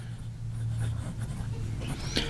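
A ZenBoo bamboo fountain pen with a smooth, wet nib writing on paper, a close, soft continuous scratching and gliding with brief stroke accents over about two seconds.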